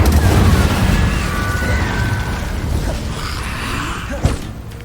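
A fire spell cast in the game Hogwarts Legacy on Xbox One, a loud, dense whooshing roar of flame with a low rumbling burst, continuous throughout with a sharp crack near the end.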